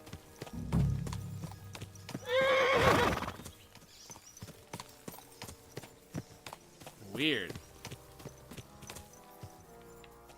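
Video game hooves clip-clop steadily while a horse gives two whinnies, one loud and long, a second shorter, with a person's brief remark over the game sounds.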